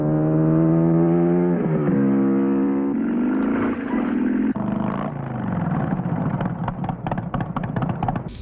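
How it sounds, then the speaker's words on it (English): A motorcycle engine in a film scene drones steadily and climbs in pitch, then revs and sputters irregularly through rising and falling throttle bursts. "We hear the sound of the motorcycle engine"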